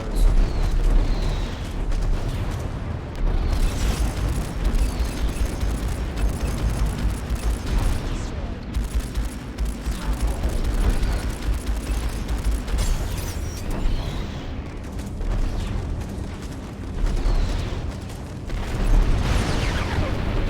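Space torpedoes detonate in the space combat game Strike Suit Zero, loud rumbling booms and bursts rolling one after another over a continuous dense roar of battle noise, with no speech.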